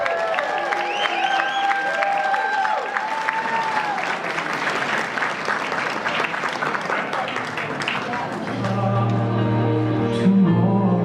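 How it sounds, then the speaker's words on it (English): Wedding guests break into sustained, loud applause that fills the room for about eight seconds, with music and an amplified voice rising near the end. "One big round of applause for them."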